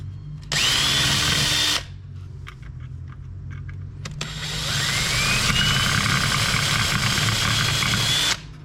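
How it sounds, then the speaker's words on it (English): A power drill whines loudly in two long runs separated by a short pause with faint clicks, close and constant, drilling out two rivets on a 1936-37 Lionel toy train chassis. "I drill out the 2 rivets"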